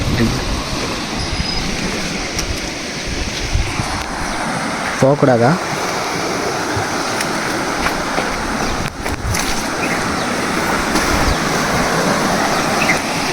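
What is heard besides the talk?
water rushing through the Palakkarai aqueduct bridge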